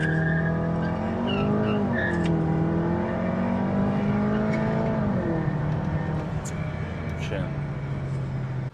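A Volkswagen Golf GTI accelerating on a drive, its engine note rising and falling steadily and close inside the car, with a faint squeal and road noise underneath.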